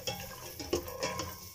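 Raisins stirred and lightly fried in a pan, heard as soft scraping stirs with a few louder clinks of utensil on the pan over a gentle sizzle, close and brief.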